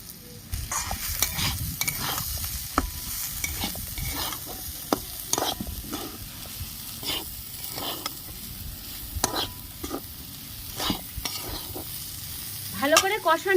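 Spices and turmeric sauté in a pan for khichuri, with a continuous sizzle and frequent scraping stirs of a spoon, close and unvoiced, with a brief clatter near the end.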